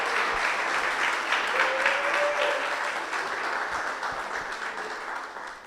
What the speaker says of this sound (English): Let's give her a round of applause as she's proceeding to her seat.